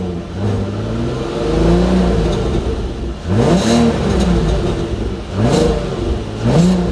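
A used Volkswagen Golf R32 engine is revved repeatedly while stationary, three loud rising raspy blips climbing and falling back to a rumbling idle, close and alone without talk.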